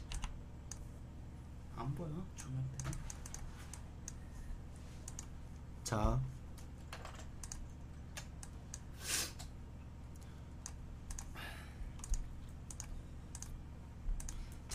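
Keys clicking on a solar computer keyboard while a KartRider drift technique is demonstrated, quiet scattered taps and a few sharper presses beneath occasional talk.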